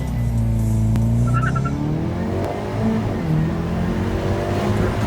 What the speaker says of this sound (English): I'll include a clip of Ron giving me launch control in this car several months ago.